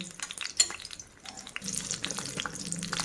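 Egg-stuffed brinjal chops frying in a pan while being slowly stirred and moved so the bottoms don't stick: a soft, faint sizzle with a few scraping and clinking touches.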